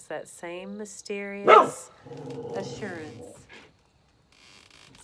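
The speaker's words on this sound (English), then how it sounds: "Sorry, that was my dog." Pet dog barking a few sharp times in a quiet room, overlapping a speaker's voice during a devotional talk, then fading to near silence.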